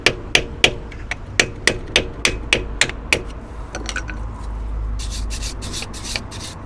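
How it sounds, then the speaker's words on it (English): A hammer strikes a corroded, stuck wheel about ten times in a quick, steady rhythm, the loud ringing blows followed by softer scraping and rubbing. "Hence the reason we couldn't get it off without the hammer"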